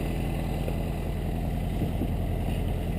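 A small 1952 MG TD roadster with a 4-cylinder overhead-valve engine pulls away, giving a steady, loud low rumble and rush of wind noise throughout with no talking.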